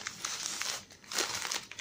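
A sealed plastic package of Slavyanochka salt from Kazakhstan crinkles as it is handled, giving close, crisp bursts of crackling in quick irregular clusters.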